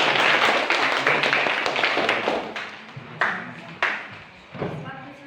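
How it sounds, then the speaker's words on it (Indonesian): Classroom applause for a student group presentation, a burst of clapping from the class that fades over several seconds, with a few louder claps and some talking under it. "Oke, kita berikan aplaus untuk"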